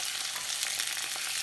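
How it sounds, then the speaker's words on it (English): A thick tomahawk steak sizzles on a hot grill, a steady crackling hiss with small pops, close and continuous with no talking. "Oh, hear that sizzle."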